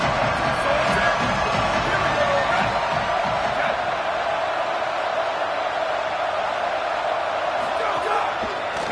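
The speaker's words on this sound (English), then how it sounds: "Crowd getting this defense whipped up on third down." A college football stadium crowd roars on third down as the defense is fired up, a dense, loud and sustained wall of cheering and shouting under a steady commentary voice.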